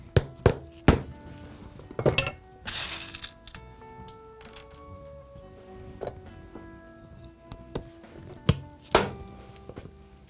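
Small threaded nails are hammered into the heel of a leather Allen Edmonds shoe, with sharp metallic taps in short, uneven clusters and quieter clinks and handling noises between them, close by.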